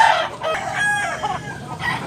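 Close, fairly loud crowing from a Tazmanian hennie-type fighting rooster, a couple of short rising calls over outdoor background noise.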